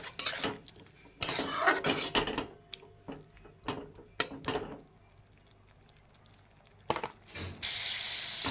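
Water is poured into a pan of turmeric spice mix frying for a Bengali fish curry. Splashing pours and bursts of hissing alternate with clatter and brief quiet gaps.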